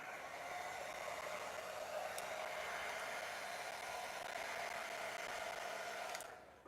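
A hair dryer blows on a freshly painted miniature with a steady, close, continuous whoosh that runs alone for several seconds before cutting off near the end.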